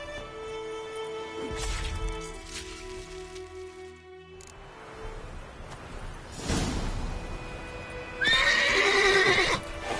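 Horse sounds from The Witcher 3 video game: hooves clopping, then a loud whinny and snorting near the end, over soft rain-like ambience and no talk.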